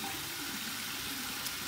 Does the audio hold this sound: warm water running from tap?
yes